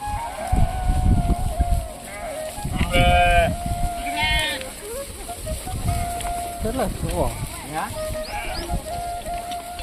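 Goats bleat repeatedly in a Kutch farmyard, several wavering cries close by, mixed with people talking nearby.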